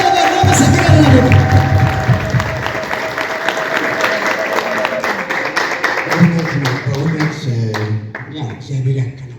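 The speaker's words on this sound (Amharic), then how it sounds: "ከፍ ያለ ጭብጨባ ሳታቋርጡ የወንድማችን አዶናይ ከፍ ያለ ጭብጨባ" Loud, sustained applause from a crowd at a church gathering in Bahir Dar, dense clapping that keeps going for several seconds with cheers mixed in before it thins toward the end.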